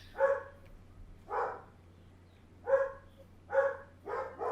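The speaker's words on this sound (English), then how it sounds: "Guys, I'm sorry about my dogs." Several dogs bark in four or five separate bursts spaced over a few seconds, sounding fairly close indoors, with no talk over them.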